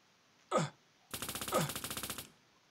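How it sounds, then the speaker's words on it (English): Gunfire in a 3D shooter game built in Unity: a single close shot, then a rapid burst of about a dozen evenly spaced automatic shots, loud and alone. "now shooting sound and reloading sound works"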